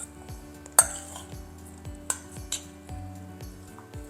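Tomato, red onion and basil salad being tossed with balsamic vinegar, olive oil and salt in a bowl, giving scattered clinks of utensils against the dish with soft wet stirring, close and alone.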